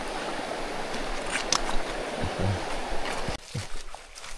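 Steady rushing water of a river along a jungle trail, continuous and moderately close, with a few faint knocks and footsteps over it, the flow easing slightly near the end.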